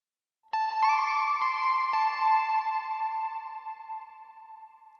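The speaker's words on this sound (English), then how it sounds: "as soon as you kick in the reverb" A single electric guitar chord rings out with heavy reverb added, struck once and followed by a few light strums, its long shimmering tail slowly decaying over several seconds.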